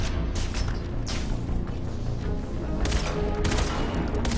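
Sniper rifle fire in the video game Far Cry 3 Blood Dragon, several loud booming shots over a dense, continuous game soundscape, with no voices.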